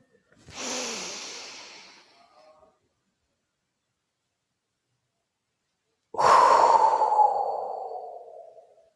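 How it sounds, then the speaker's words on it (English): Two long, loud exhaled breaths during a yoga session, each a strong breathy rush close to the ear fading out slowly, separated by several seconds of silence. "Squeeze at the root, lengthen, expand, open, exhale."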